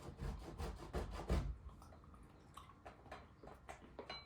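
Cheese rubbed on a grater, a run of quick scraping strokes loud at first, then softer, sparser rasps; no voices.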